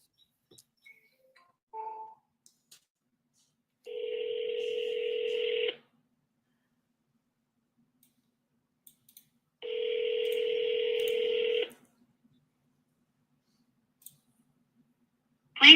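Phone call tones play with sparse clicks and a short beep, then two long steady dual-pitch tones of about two seconds each, separated by silence, with a final sharp click at the end.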